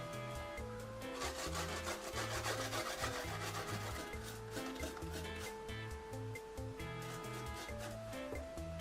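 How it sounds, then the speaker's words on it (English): Steady rhythmic rasping of garlic being grated, close and continuous, over a backdrop of music. "So right away we need to grate in this garlic."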